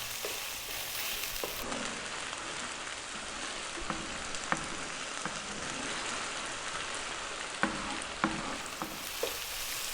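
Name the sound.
stir-frying chicken fried rice with peas in a wok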